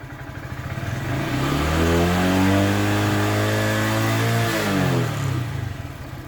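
A Honda Grom motorcycle on its stock intake revs up to roughly 7000 rpm, the engine note climbing steeply and holding a loud, strained whine for several seconds before dropping back to idle.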